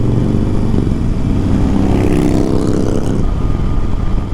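A 2021 Harley-Davidson Iron cruiser motorcycle rides along a highway, its engine a loud, continuous low rumble blended with heavy wind rush that holds steady throughout.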